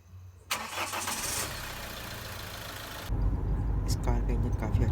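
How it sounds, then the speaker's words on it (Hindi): The overhauled engine of a Mahindra XUV500 cranks and fires, then runs with a steady mid-pitched rumble that grows louder and heavier partway through, while people talk nearby. "इंजन काफ़ी अच्छा बन चुका है और इसमें कोई हंटिंग नहीं है और कोई वाइब्रेशन वगैरह भी नहीं है।"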